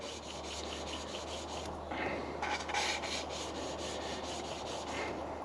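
Gritty rotating scrape of an engine valve being hand lapped against its valve seat with grinding paste, a steady close-up rubbing texture with faint periodic pauses as the tool is lifted and turned.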